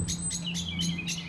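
A blackbird in an April garden giving a series of about five sharp, high chirping calls at an even rhythm, fairly close and clear over a low steady hum.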